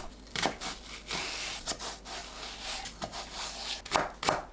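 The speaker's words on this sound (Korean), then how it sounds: "양파, 파, 청양고추를 작게 썰어주세요." A knife chops onion, green onion and chili peppers on a board in quick, uneven taps and scrapes, moderately close with no talking.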